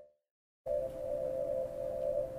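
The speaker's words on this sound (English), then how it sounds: "I made it by taking the frequencies of several shades of green and then dividing them by 2, 40 times" After a moment of silence, a steady synthesized tone built from green light frequencies lowered forty octaves begins. It is a sustained, even hum with a faint hiss beneath it.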